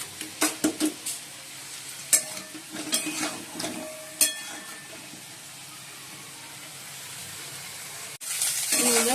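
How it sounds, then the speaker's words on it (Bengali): Cauliflower fries in a pan of oil after the potatoes. Clinks and scrapes from stirring come first, then a soft, steady sizzle runs on alone, and a louder burst of frying rises at the very end. "এবার ফুলকপিটা ভাজবো"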